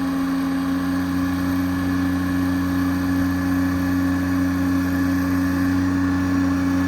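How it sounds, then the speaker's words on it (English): An EnPak unit idles on a 2018 Ford F750 extended-cab diesel crane truck fitted with a Stellar 12630 crane, giving a steady, loud, unchanging droning hum with no talk over it. "the EnPak will idle up based on load, what's being commanded of it"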